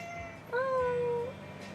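A house cat gives a single clear, rising-then-level meow lasting under a second, close by, over a soft room hum.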